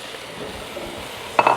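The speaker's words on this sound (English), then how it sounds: "Now I'm gonna add over the same medium-high heat our potato and carrot." Potato and carrot pieces tumble into a hot pan of leeks and bacon fat over medium-high heat, a short clattering, sizzling burst right at the end after a quiet low hiss.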